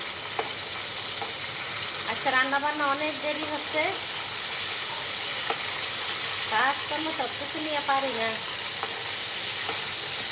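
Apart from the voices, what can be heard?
fish frying in oil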